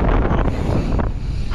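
Strong wind buffets the microphone while riding a mountain bike down a corner at the Olomouc bike park, a loud, continuous broadband roar with gusty swells filling the whole moment, no voices.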